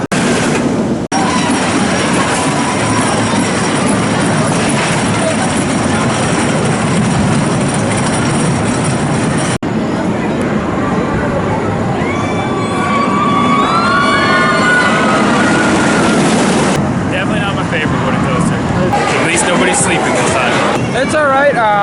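A ride on the Hurler roller coaster at Carowinds gives a loud, continuous rumbling roar of the cars on the track, with high wheel squeals and riders' voices mixed in.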